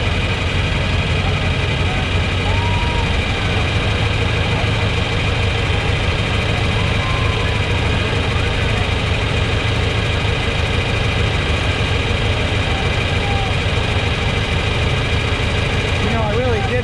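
A tractor engine idles steadily at a Memorial Day parade in Suffield, Ohio, its low rumble continuous and fairly loud throughout, with outdoor crowd noise and occasional voices in the background.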